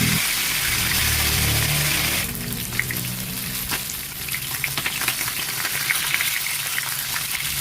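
Fish fried in a pan to remove its fishy smell, giving a steady, loud broadband sizzle that continues throughout with small crackles and pops, no talking.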